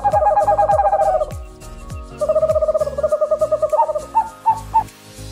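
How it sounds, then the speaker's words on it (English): An owl hoots in repeated rapid trills and then several short separate hoots, close and loud, with a faint musical backing. "owl"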